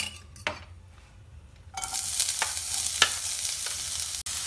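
Onions go into hot oil in a kadhai and start frying with a loud, steady sizzle, with stirring scrapes and a few clinks from the pan, close up and with no talking.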